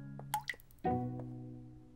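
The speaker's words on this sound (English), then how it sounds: "what is that dripping sound?" Water drips from a tap left running indoors in a children's cartoon, a few small plopping drips followed by a louder resonant drop that rings and fades, over a soft background hum.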